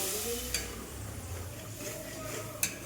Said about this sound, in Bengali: এবার এটাকে ভালো করে মশলাটা ফুলকপির সাথে যাতে মিশে যায় তো ভালো করে খুন্তি দিয়ে নাড়িয়ে চাড়িয়ে